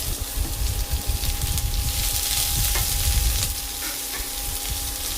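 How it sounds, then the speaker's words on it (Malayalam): Chopped onion dropped into a hot pan with green chilli, ginger and garlic gives a steady, close sizzle and crackle of frying that runs throughout with no voices. "ഇതിലേക്ക് ചെറുതായിട്ട് അരിഞ്ഞു വെച്ചിരിക്കുന്ന സവാള ചേർക്കാം."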